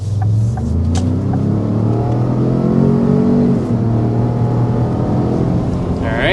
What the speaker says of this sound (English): let's start with a hard acceleration